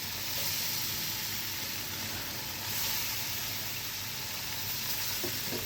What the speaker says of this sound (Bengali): এই মাছটাকে আমি ভেজে নেব।